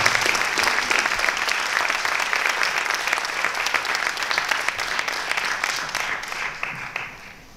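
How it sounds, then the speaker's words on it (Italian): Theatre audience applauding continuously and loudly at a season presentation at Teatro Giuditta Pasta in Saronno, the dense clapping holding steady throughout and easing slightly at the very end, with no talk. "credo che debba essere fatto un grosso applauso"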